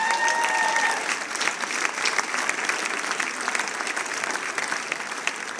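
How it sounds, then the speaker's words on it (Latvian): Sustained applause from an audience at a FuckUp Nights event in Riga, a dense, steady clatter of many hands clapping at fairly close range for several seconds, with no speech over it. "Helvijam viskaļāk aplausa"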